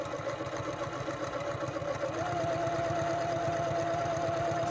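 A sewing machine stitches in the ditch along the edge of a quilted Christmas ornament pot holder in white thread, running in a steady, close, continuous mechanical rattle with an even rhythmic pulse and no talking.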